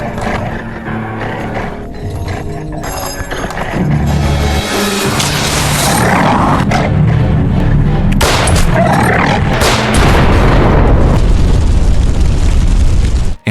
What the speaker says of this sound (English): When the bomb exploded and sent the monster flying through the air